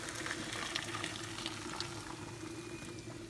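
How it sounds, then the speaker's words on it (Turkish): Boiling water is poured into a pot of Giresun black cabbage soup, a faint steady splashing and bubbling rush of liquid lasting a few seconds with no talk. "Bundan sonra kaynar sudur ilave edeceğim."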